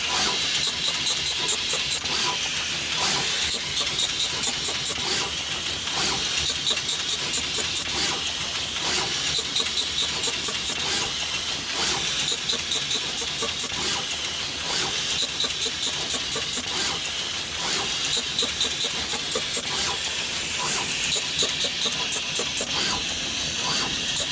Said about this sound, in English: In comes the board, finds its fiducials, makes its nozzle change, gets components, and places.